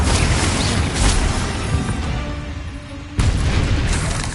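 A Confringo spell from Hogwarts Legacy on PS5 erupts in a loud, sustained fiery blast that dips for a moment, then bursts again abruptly.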